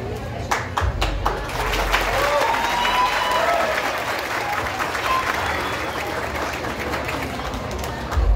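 A crowd applauds at a town square festival in Tiros, Minas Gerais, in 2023, with sustained dense clapping, a few louder claps and voices calling out over it.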